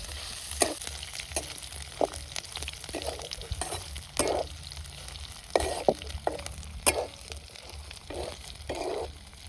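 Frying over an open wood fire outdoors produces a continuous sizzle broken by scattered sharp pops and stirring scrapes, moderately close and steady throughout, with no voices.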